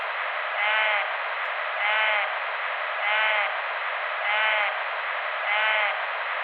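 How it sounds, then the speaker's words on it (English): A bighorn sheep in Yosemite bleats five times in a steady, evenly spaced series, each call a short, wavering, nasal cry against a constant hiss of background noise. "I played what is probably a bleat of a bighorn sheep."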